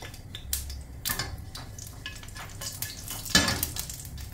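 Mustard seeds, cumin, fenugreek and dried chillies frying in hot oil in a pan, a quiet steady sizzle broken by soft pops, crackles and an occasional scrape of a spoon against the vessel.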